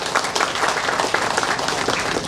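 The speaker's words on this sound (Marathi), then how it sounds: "अशा या कार्यकुशल व्यक्तिमत्वासाठी एकदा जोरदार टाळ्या झाल्या पाहिजेत" An audience at a welcome ceremony in Morgaon claps, a dense, even spread of hands that holds steady throughout.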